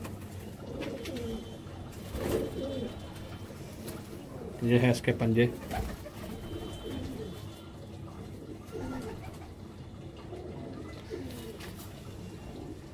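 Golden pigeons coo softly and repeatedly close by, while someone talks over them.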